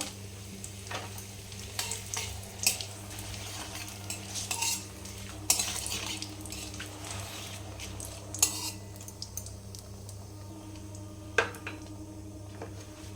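Dried red chilies and bay leaves fry with asafoetida in hot oil as a tempering for chickpea ghugni, a low steady sizzle under repeated stirring scrapes and occasional clinks of a metal spoon against the pan.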